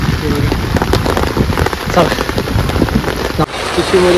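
Heavy monsoon rain pours steadily onto surfaces at a riverside campsite, a dense close hiss that continues throughout without pause.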